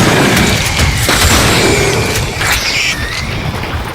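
Loud gunshots in Hunt: Showdown, a couple of heavy booming cracks over dense, noisy game ambience and mechanical clatter, with no speech.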